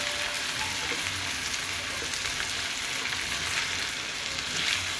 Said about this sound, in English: Then I'm going to be adding blended tomatoes.